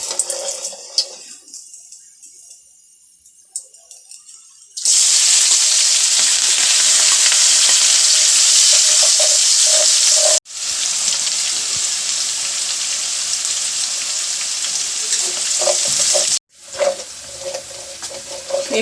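Potatoes and bean pods frying in hot oil, with loud, steady sizzling in long bursts broken by brief pauses, and quieter stirring and clinking in between.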